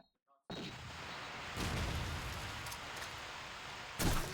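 A Call of Duty 2 match with steady gunfire and battle noise throughout, a broad rumbling wash that swells at moments, with a sharper burst near the end like a grenade going off.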